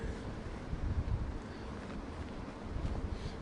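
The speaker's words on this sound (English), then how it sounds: "wind's picking up" Strong wind gusting at Heathrow Airport during Storm Darragh, a rough, buffeting low roar battering the microphone, steady and close with brief surges.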